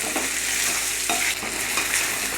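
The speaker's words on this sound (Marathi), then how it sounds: "ह्या फोडी आपल्याला तेलामध्ये एखाद एक दीड मिनिट परतून घ्यायच्यात" Raw mango pieces stirred and sautéing in oil in a pan over a medium flame for a Maharashtrian methamba, giving a steady close sizzle with scraping stirs throughout and no talking.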